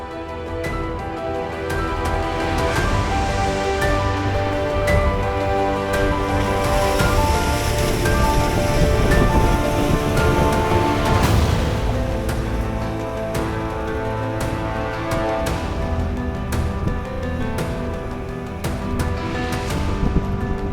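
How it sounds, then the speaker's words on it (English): A Cairngorms mountain river rushes and cascades like a waterfall, a steady broadband roar of churning water holding loud and continuous throughout, with no voices. "The sound of that river just, well, it's like a waterfall just cascading down."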